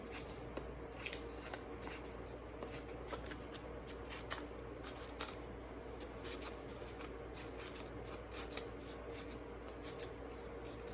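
Scissors snip rapidly through paper to cut fringed feather shapes, producing a close, steady series of small crisp cuts with a faint rustle, repeated evenly throughout without talking.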